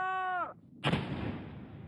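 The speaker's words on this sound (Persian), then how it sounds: "این محموله های پر از بارود پس از 3 دهه انتظار به کامشان می رسن. انفجار!" Old gunpowder-filled munitions from a three-decade-old stockpile detonating near the Afghan border, one heavy blast with a long rumbling tail, heard right after a voice calls out.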